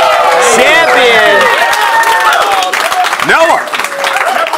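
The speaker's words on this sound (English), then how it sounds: "let's give one more round of applause to our Madden Challenge champion" A crowd applauds and cheers for the Madden 20 Madden Challenge champion at a championship event, a loud, steady wash of clapping with whoops and voices rising over it.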